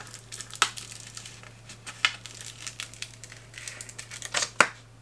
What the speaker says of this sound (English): And we can then peel that backing off.